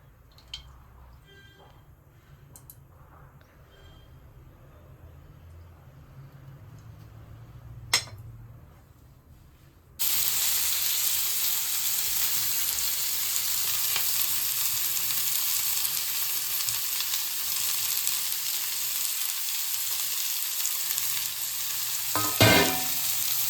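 Oil heating in a kadai for a home-cooked mutton keema and egg bhurji: about ten seconds of quiet kitchen clatter, then a loud, steady sizzle bursts in abruptly and keeps going close up, with no one talking.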